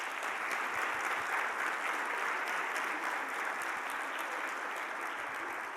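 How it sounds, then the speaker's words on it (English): Sustained applause from a large conference audience for a group of state education chiefs on stage, a dense, even wash of clapping that holds steady at moderate level throughout. "Let's give them a round of applause."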